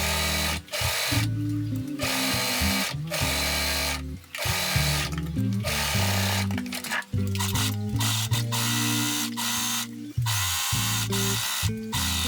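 A sewing machine runs almost continuously while sewing the side seams of a skirt made from a dress, its motor buzz shifting in speed and pitch with a few brief stops.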